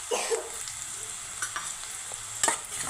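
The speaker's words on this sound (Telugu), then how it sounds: "ఇదిగోండి ఇవి వేగిపోయి ఇందులోని ఉల్లిపాయలు వేయించుకుందాం." Onions and green chillies frying in hot oil for gongura chicken, a steady close sizzle with a few stirring scrapes and clinks scattered through, no talking.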